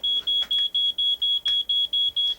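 A smoke alarm sounds a rapid series of ten identical high-pitched beeps, evenly spaced and loud, with nothing else behind them.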